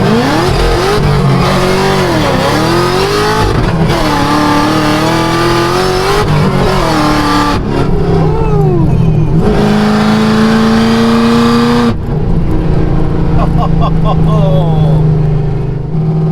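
A 940 hp Chevrolet Camaro ZL1 accelerates hard in first gear on a road, its engine roaring loudly with rising revs, brief shifts of pitch and a sustained howl throughout, while people talk over it.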